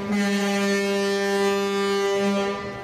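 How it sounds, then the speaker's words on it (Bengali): A river launch, Prince Awlad 10, on the Kirtankhola river sounds a long, loud, sustained horn with rich steady harmonics, close by and alone without talk. "বেশ জোরে সোরে হর্ন বাজিয়ে যাচ্ছে প্রিন্স আওলাদ 10"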